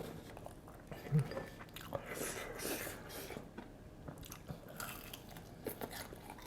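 Close, quiet chewing of spicy fried chicken with crunchy batter: repeated crisp bites and soft crunching, with faint mouth sounds and brief low talk.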